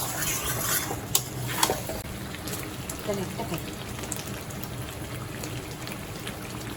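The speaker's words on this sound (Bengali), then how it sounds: "এইরকমভাবে আমি হাই এবং লো করে 10 মিনিট এই চিকেনটাকে আমি ভালোভাবে কষবো" Chicken is stir-fried with spices for butter chicken, a soft sizzle under repeated scrapes and clinks of a spatula against the pan, with faint voice-like sounds in the background.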